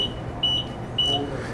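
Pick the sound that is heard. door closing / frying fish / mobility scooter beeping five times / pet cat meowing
mobility scooter beeping five times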